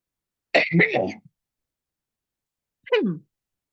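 Someone clears their throat with a rough, raspy cough, then after a short pause gives a second, briefer throat-clearing sound, close and otherwise quiet.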